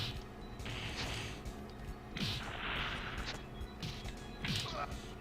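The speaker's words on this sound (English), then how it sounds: "I like that they realistically make explosions hurt other enemies, even if the enemy is the one that started the attack." Explosions in a SNES platformer video game go off as repeated bursts and crashes over a busy game soundtrack, several blasts spaced across a few seconds.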